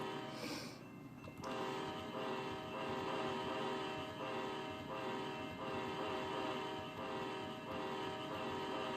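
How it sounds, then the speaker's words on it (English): A freight train's horn sounds in long sustained blasts over the rumble of rolling railcars in a railfanning train simulation, the tones repeating and holding across the stretch at moderate level. "We're getting an awesome horn show happening here."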